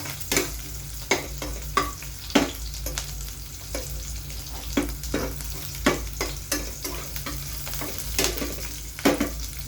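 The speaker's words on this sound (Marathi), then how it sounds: "अगदी 10-15-20 सेकंद आपण मिरच्या छान परतून घेऊया, अर्धा मिनिट वगैरे." Green chillies sauté in hot oil in a pan, giving a steady sizzle with regular scraping strokes and light clinks of a spoon against the pan, heard close and alone under a low hum.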